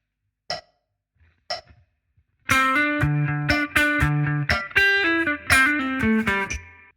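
Electric guitar playing bar 30 of a song with ghost notes, two faint muted picks followed by a clipped, rhythmic run of plucked notes and chords, close and alone.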